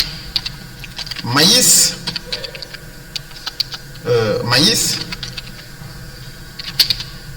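Typing on a computer keyboard while entering crop names into a table, with scattered close key clicks around two stretches of speech.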